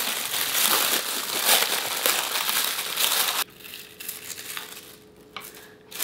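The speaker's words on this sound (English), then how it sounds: "Get all that wrapping out of the way" Plastic wrapping is pulled off a boxed Swift SW380B microscope, giving loud close-up crinkling and rustling that stops abruptly partway, followed by quieter handling noises and faint rustles.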